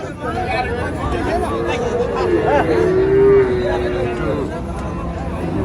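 Cattle low at a busy cattle market in Tangail, with one drawn-out moo rising above a steady crowd murmur as people talk nearby.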